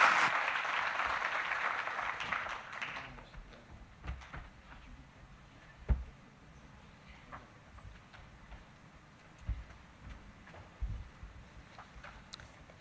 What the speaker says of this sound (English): let's just give this panel another round of applause